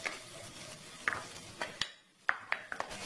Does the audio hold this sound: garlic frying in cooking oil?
yes